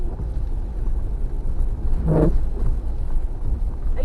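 A Jeep Rubicon drives through deep snow in a field during a heavy snowstorm, a low continuous engine rumble with wind buffeting the microphone and a brief louder surge in the middle.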